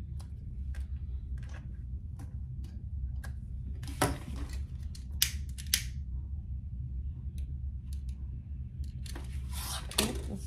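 Scissors snip through the fabric of a sewn toiletry cosmetic bag in a run of sharp, close clicks and cuts, with a few louder crunching cuts near the end over a steady low hum.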